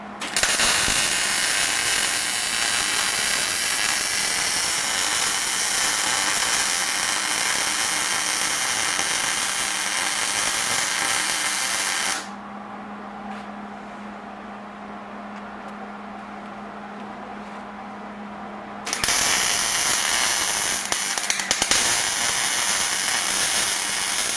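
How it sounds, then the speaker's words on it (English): Arc welding on homemade steel rock sliders for a Jeep CJ7, a loud continuous crackling buzz that runs steadily, stops for several seconds to a low hum, then resumes at full strength. "now what we're going to do is yank off this entire piece and weld her up"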